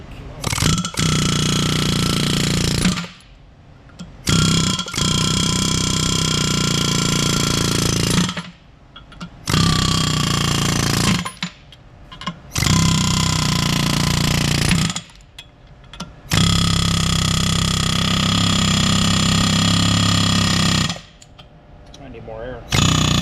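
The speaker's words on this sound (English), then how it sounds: "hit it with that air chisel and see what we can do" Loud pneumatic air chisel hammering on a 1986 Chevy K30 off-road truck, a rapid continuous rattle in several long bursts separated by short pauses.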